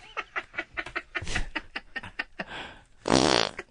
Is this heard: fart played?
yes